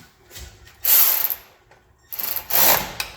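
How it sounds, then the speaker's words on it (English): Ratchet tightening two bolts on a 1978 AMC Gremlin, with two short bursts of close clicking strokes and a quieter stretch between them, no voices. "I'm going to tighten these two bolts up here"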